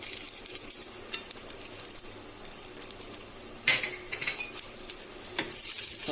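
Garlic fries in oil in a pan over lowered heat: a steady, close sizzle with a bright hiss, broken by a few sharp clinks and scrapes as it is stirred.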